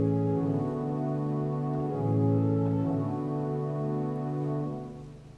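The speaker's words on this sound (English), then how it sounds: "The strings sound like this." Sustained string stops of a Holtkamp pipe organ in a church, a thin, bright chord held steadily with a slight swell near the middle before fading at the end, alone with no talking.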